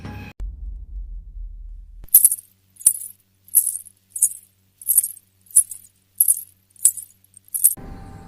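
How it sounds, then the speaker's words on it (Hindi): Jingling anklet bells shaken in nine evenly spaced bright bursts, each a crisp metallic shimmer, heard alone over near silence after a low rumble at the start. "तब मैंने कमरे के बाहर किसी की पायल की आवाज सुनी।"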